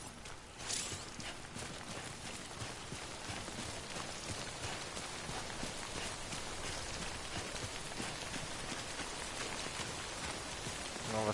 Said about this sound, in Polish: A nie, tu jest często deszcz.